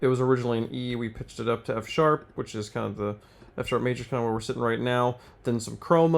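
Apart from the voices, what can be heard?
No distinct noise like a dog, phone or traffic.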